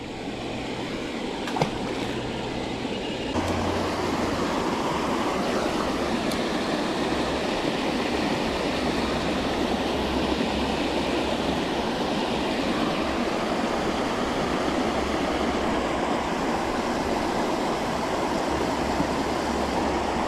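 Steady broadband rush of a small waterfall spilling into an apartment complex pond, continuous and fairly loud with no voices over it.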